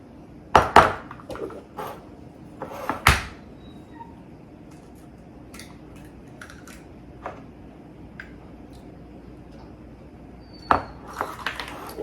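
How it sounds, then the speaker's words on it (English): Farm fresh eggs are cracked into a separate bowl in a home kitchen, giving sharp, sparse taps and clinks of shell against the bowl, a cluster at the start, then scattered light knocks and another burst near the end. "I am going to crack them in a separate bowl before I put them in the big bowl"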